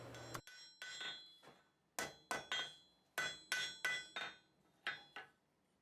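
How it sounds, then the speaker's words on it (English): A blacksmith's hammer strikes a hot steel bar, drawing it out into a thin wedge for a spoon handle. About a dozen sharp, ringing blows land close by in uneven bursts with short pauses, and no one speaks. "I'm just hammering them down and drawing them out into a thin wedge shape."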